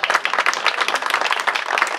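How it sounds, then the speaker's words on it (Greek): An audience at a village grape-treading festival in Kainourgio Chorio applauds, with many hands clapping in a dense, lively burst that runs throughout at a fairly close distance. "ένα χειροκρότημα"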